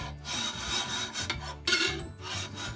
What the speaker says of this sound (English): I've been filing on this edge and it's getting pretty close